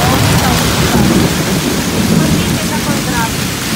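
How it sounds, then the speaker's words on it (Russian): A heavy thunderstorm in Provence after a spell of heat, with steady, loud rain and low rumbling thunder filling the whole stretch without a break. "Ярко, гром и гроза просто."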